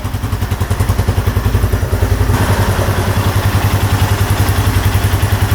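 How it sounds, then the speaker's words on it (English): A Honda ATV engine idles loudly and steadily nearby, its rapid, even chugging pulse continuing throughout with a slight shift in tone midway. "Engine sounds really good."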